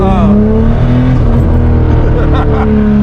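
A 1991 BMW 325i E30 driving with a snapped throttle cable, its engine droning loud and steady with rising and falling pitch from inside the car, while people talk over it.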